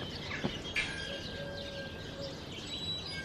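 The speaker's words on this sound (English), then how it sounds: "Look at all these birds." Birds chirp outdoors at Camelot Castle in Tintagel: a few brief, faint tweets and calls over a steady background hum, with no talking.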